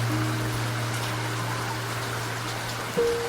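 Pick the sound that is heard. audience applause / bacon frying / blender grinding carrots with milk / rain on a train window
rain on a train window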